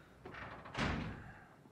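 In a Call of Duty: Modern Warfare match, a door swings shut with a single muffled thud after a brief creak, fairly quiet and heard on its own with no talking.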